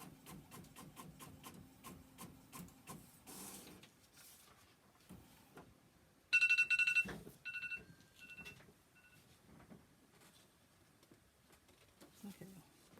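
A sublimation printer crunches and rasps while feeding paper, with rhythmic mechanical clicks, rubbing scrapes and a louder burst of grinding midway, fairly close and quiet overall.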